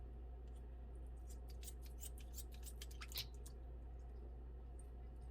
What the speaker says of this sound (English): I use a very sharp scissors so you don't have to cut it on a board